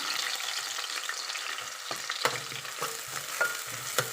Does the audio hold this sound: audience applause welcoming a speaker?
no